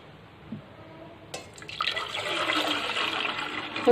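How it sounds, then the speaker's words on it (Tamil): Liquid pours and splashes steadily into a pan after a couple of light clinks, the flow growing louder and continuing to the end, as rasam is poured into a pan to boil. "நான் ஒரு வானலியில் கொட்டி இதை வந்து கொதிக்க விட போகிறேன்"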